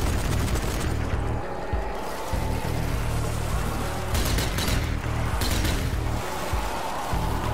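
A Sten submachine gun in the Zombie Army 4 video game blasts out loud, dense bursts of automatic fire against a crowd of zombies, with brief gaps between volleys and a constant rumble underneath.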